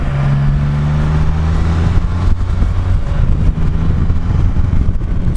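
A Can-Am Spyder three-wheeled motorcycle riding through the Hocking Hills, its engine a steady, close, continuous drone with low tonal hum and wind rush throughout.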